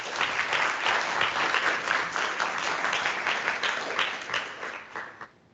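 Warm audience applause at a conference forum on green skills, a full, dense round of clapping that stays steady for about five seconds and then fades out quickly.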